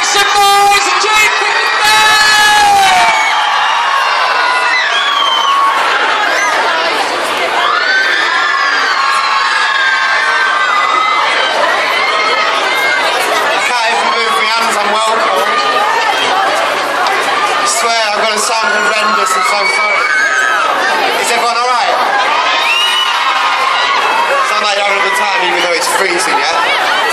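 A large crowd at a Christmas lights switch-on in Huddersfield cheers, screams and shouts continuously and loudly, with children's voices prominent throughout.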